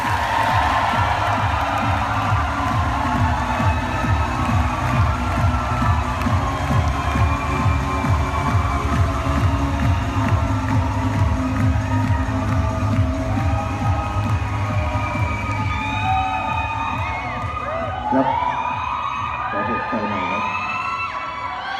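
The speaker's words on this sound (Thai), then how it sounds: "ปรบมือดังให้กับ Rising Star ท่านที่ 2 นะครับ" A seminar audience cheers, whoops and claps loudly for a presenter at a business event; the dense crowd noise holds steady for most of the stretch, then thins toward the end.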